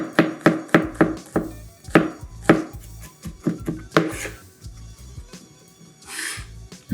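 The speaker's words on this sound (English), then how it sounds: "2 cloves of garlic. And I want to mince this as fine as possible." Two garlic cloves minced finely with a knife on a board, heard as quick, rhythmic, close-up chops that slow and pause near the end.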